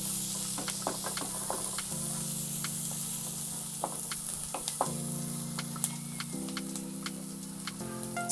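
Onions browning in a hot pan ahead of squid going in, giving a steady close sizzle with scattered crackles and pops, no voices.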